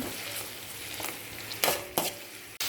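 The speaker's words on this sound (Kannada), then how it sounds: "ಇದು ಕೂಡ ಸ್ವಲ್ಪ ಫ್ರೈ ಆಗಬೇಕು." Spice paste frying in a pan for tomato bath, a continuous close sizzle broken by a few short, sharp stirring scrapes and clanks.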